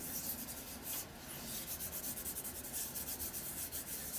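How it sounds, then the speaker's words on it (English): A napkin being gently rubbed and smoothed down by hand, a soft continuous brushing and swishing that comes in rhythmic strokes, close and fairly quiet, with no voices. "Just give that a gentle rub."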